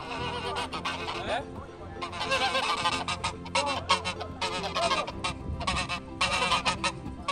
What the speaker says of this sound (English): So we have the white geese here.